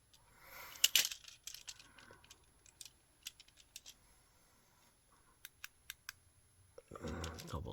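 A computer mouse clicks sharply in a quiet room, several isolated clicks and close pairs scattered over several seconds, followed by a soft rustle near the end.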